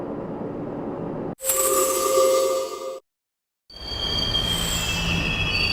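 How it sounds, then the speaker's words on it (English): A train running in the video game Persona 3 Portable, loud steady rumble with sharp squealing wheels, a sudden cut to silence, then the rolling carriage noise resumes with high whining tones. "This is the final train bound for Tatsumi Port Island."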